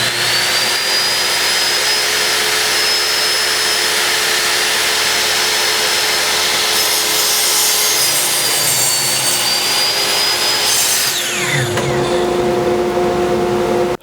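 A table saw loud and close, a steady high whine with a harsh broadband roar as the blade rips through wood for a miter cut, the motor winding down at the end.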